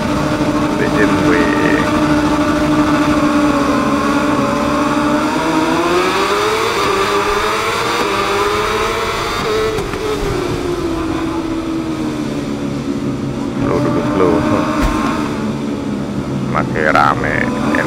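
BMW superbike racing at the Misano World Circuit Marco Simoncelli during a WSBK race, engine whine rising and falling steadily through gear changes, loud and continuous, with someone talking over it.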